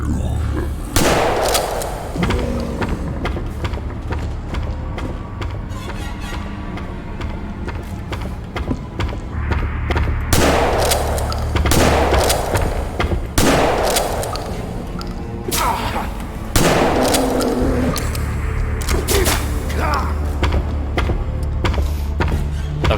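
Gunfire in the video game Gloomwood, with a string of sharp, loud reports at uneven intervals over a low droning game backdrop, several shots clustered together in the middle section.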